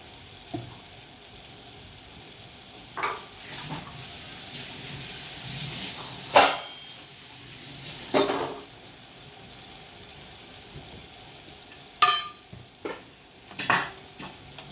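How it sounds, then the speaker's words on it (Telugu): Potatoes fry with salt in a pan on a low flame for chutney, a faint steady sizzle broken by occasional scrapes and clatters of a stirring utensil, up close, with no voices. "బాగాను సిమ్లో పెట్టి వేగనివ్వాలి."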